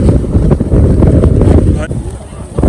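Strong wind gusts roar across the microphone at a railing above a deep valley near a waterfall in Amboli during monsoon, a loud continuous buffeting rumble with no clear pauses.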